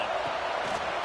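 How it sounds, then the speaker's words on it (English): Big crowd roaring at a college football game in Happy Valley on third down, a loud, steady wash of massed voices. "Here comes the noise from this big crowd in Happy Valley on 3rd down."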